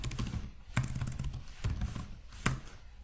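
Quiet, scattered keystrokes on a computer keyboard: a few soft clicks and taps spaced irregularly over a few seconds, with no voices.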